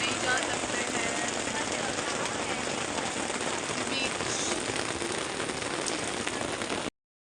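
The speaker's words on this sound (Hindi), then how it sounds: "बस बारिश हो रही है तो नहीं जा सकते हैं" Steady rain hisses at a beach resort in Goa, a dense, even downpour that fills the scene before cutting off abruptly near the end, with a brief spoken word.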